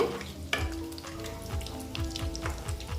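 Egg and potato chops fry in hot oil with a steady close sizzle and crackle, broken by a spatula scrape and flip early on and soft stirring knocks throughout.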